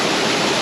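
Rushing water pours over Daranak Falls in Tanay, Rizal, a steady, loud, broadband roar of falling and flowing water that fills the short moment close by, with no voices.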